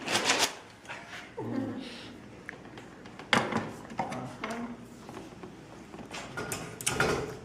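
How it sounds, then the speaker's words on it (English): A frisket peeling paper off a sticky inked printing press makes soft crackling, tacky peeling and light mechanical clacks, faint and close, with a person talking quietly. "You can hear the frisket lift that paper"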